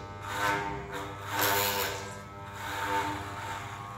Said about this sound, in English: So the trimmer might overheat a few times because of the coat being so thick and so many hairs.